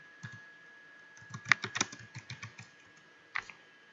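Quiet tapping on a computer keyboard, a quick run of light clicks typing a short search phrase, with a brief pause and a couple of final keystrokes.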